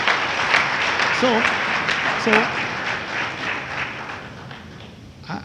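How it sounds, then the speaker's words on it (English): Audience applause at a talk on government agencies and the private sector, a broad steady patter of many hands that thins toward the end, with a couple of brief voiced exclamations rising over it. "I'm quite surprised that got the loudest applause."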